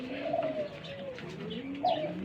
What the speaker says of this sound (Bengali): এখানে একজোড়া কবুতর আছে, নিউ আইডেল পেয়ার